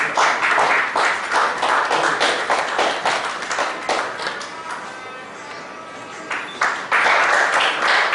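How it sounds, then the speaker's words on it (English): Hearty applause fills a seminar hall at a Bangalore branch event, thick clapping that eases off midway, then swells loudly again near the end. "Please give a big round of applause."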